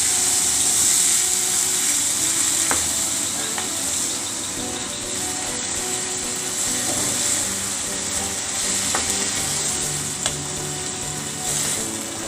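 Onions frying in a pan for a village-style fish curry, a steady broadband sizzle lasting throughout with occasional faint clicks of utensils and no talking.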